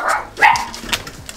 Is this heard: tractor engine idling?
no